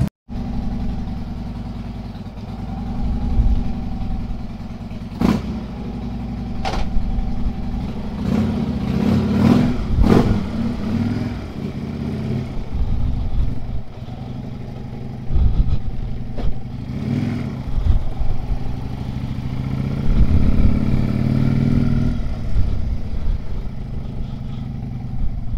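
A motor engine runs close by, rumbling steadily with several rises in revving and a few sharp knocks or clatters over the idle.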